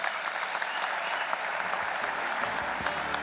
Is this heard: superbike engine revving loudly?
no